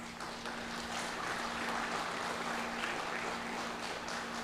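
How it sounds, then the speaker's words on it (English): Audience at a school commencement ceremony applauds student leaders, a broad, even wash of clapping heard from a distance with a steady hum underneath and no talking. "please join me in giving our student leaders a well-deserved round of applause"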